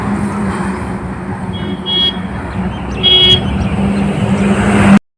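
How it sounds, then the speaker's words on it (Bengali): Heavy traffic streams past on a busy market road, a loud continuous engine roar and tyre rumble with vehicles swelling close by, brief horn toots mixed in, ending abruptly. "এত গাড়ি যাচ্ছে"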